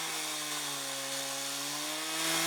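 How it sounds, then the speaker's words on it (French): A lumberjack's chainsaw runs outdoors as he carves contest trophies, a steady buzzing drone holding pitch and swelling slightly louder at the end. "un bûcheron joue de la tronçonneuse pour sculpter les trophées du concours"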